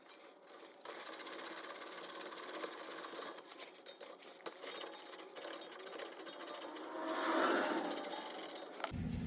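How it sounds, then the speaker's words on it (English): A ratcheting socket tool, fitted over a 7mm Allen hex, loosens the brake caliper slide pins on a Lincoln MKC/MKZ with a rapid, buzzing rattle that runs in uneven bursts for several seconds, close and without speech. "So we're going to stick our socket in there and break them free."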